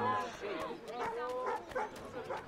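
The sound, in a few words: dog barking in video game Assassin's Creed 3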